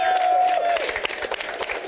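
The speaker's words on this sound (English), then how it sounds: "a huge round of applause for the team guys behind it" Audience applause at a live Age of Empires stage event at gamescom, dense clapping with some cheering, loud and continuous throughout.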